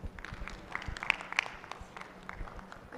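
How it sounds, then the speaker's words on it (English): Scattered, faint clapping comes from ladies in an audience at a university event. Sparse individual claps with gaps between them over a quiet background. "Ladies, clap for her."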